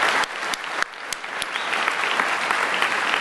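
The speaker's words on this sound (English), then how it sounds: "if I get a round of applause for Lock" A crowd in a large hall at the DEF CON 22 hacker convention's closing ceremony breaks into sustained applause, dense and loud throughout with a few sharper claps standing out.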